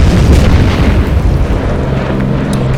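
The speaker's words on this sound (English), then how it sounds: "So let's try and drop some bombs here." Bombs dropped on enemy artillery along the Burma Road in the Order of Battle strategy game land as a loud, continuous rumbling boom that stays heavy and close throughout.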